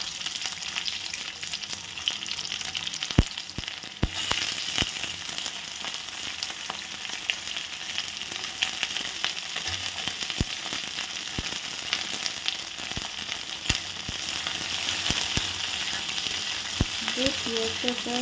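Chopped onion frying in a pan gives a steady, close crackling sizzle, with occasional sharp clicks and scrapes of stirring throughout.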